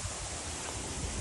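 Strong hurricane wind roaring outdoors, a dense steady broadband rush filling the whole moment, loud and close with no voices.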